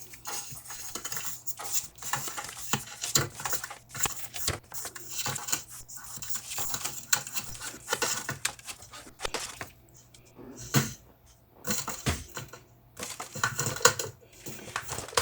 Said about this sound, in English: just fold and burnish